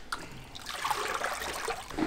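Milky water, clouded with real milk, sloshes and trickles as it is scooped out by hand on a film set, a soft close splashing that continues throughout.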